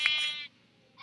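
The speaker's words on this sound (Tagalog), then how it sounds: "May kambing." A goat bleats once in the Minecraft video game, a short, nasal, wavering call that starts loud and close, trailing off into quiet with a faint tail at the end.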